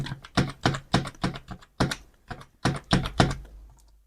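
Keys clack on a computer keyboard as an Aadhaar card number is entered, about a dozen crisp taps in short uneven bursts, close and clear with no talking.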